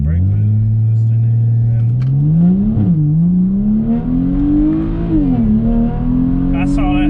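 A BMW E92 launching hard from a dig with brake boost, its engine droning loud and steady, the pitch climbing through the gears with brief dips at the shifts.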